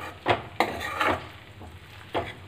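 A chili paratha filling is stirred together in a pan, with a few distinct scraping, clattering strokes at an uneven pace under a low steady hiss.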